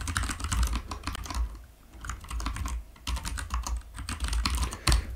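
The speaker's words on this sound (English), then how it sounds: "sorry for the typing." Rapid keystrokes on a computer keyboard during a live multiplayer game-building stream, a dense, close, irregular clatter with brief pauses, no talking.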